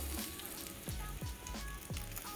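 Flour-coated steak frying in oil over high heat, a faint steady sizzle and crackle with a few soft popping bursts scattered through it.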